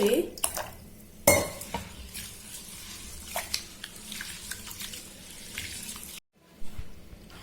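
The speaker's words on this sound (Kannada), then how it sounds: "ಈಗ ಇದ್ರೊಳಗ ನೀರ್ ಹಾಕಿ ಇದನ್ನ 3 ಸಾರಿ ತೊಳೆಯೋಣ" Rice and chana dal are washed by hand in water in a kitchen vessel, with sloshing and swirling water, scraping against the pot and a few sharp clinks, steady and close, with brief near-silence before the handling resumes.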